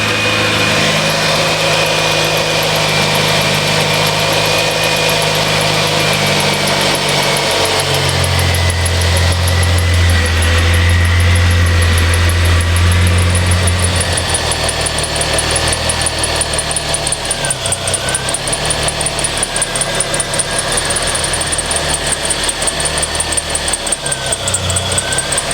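Ford Mustang engine idles steadily and loudly up close under diagnosis for a rough idle, with a continuous mechanical hum and whine and a deeper low throb swelling midway.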